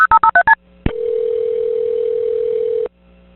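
Telephone keypad tones of a 911 call: five quick DTMF beeps in a row, then a short gap and a steady, loud continuous tone lasting about two seconds before cutting off.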